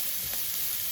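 Raw chicken pieces brown in a pan for a curry, giving a steady dense sizzle that fills the short moment without any talk.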